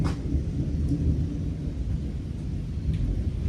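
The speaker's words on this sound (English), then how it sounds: "It's quite stormy out now." Thunderstorm outside during an engine swap on a Jeep, a heavy continuous low rumble of thunder with steady rain-like hiss, loud and unbroken with no voices.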